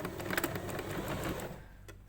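A sewing machine runs a fast, steady stitch on a narrow French seam with fabric held taut, its rapid mechanical clatter close and fairly soft before easing off near the end.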